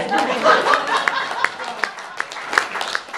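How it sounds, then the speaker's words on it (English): Audience clapping at a talk, a dense patter of many hands with sharp individual claps poking through, moderately loud and sustained, with crowd murmur mixed in. "Clap for this guy."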